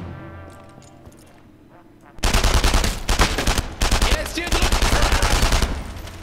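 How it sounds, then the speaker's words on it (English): Bursts of MP40 submachine gun fire in the World War II shooter game Enemy Front, loud and sustained after a quieter opening stretch, with dense rapid shots stacking into one another. "I'm really having a hell of a time with this fucking MP40."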